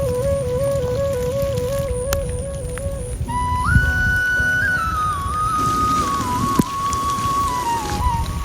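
Steady rain falls outdoors over the haor wetlands at Nikli, Kishoreganj, a constant close patter with thin whistle-like tones drifting above it and no talking.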